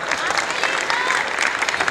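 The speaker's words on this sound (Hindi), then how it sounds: "और अगर कोई बच गया है तो उनके लिए भी एक बार जोरदार ताली" Loud, dense clapping from a crowd at a preschool annual event, continuous and even for a couple of seconds with a few voices mixed in.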